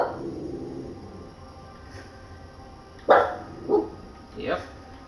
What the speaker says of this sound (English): You're gonna be hearing my dog for a little bit because people are in my hallway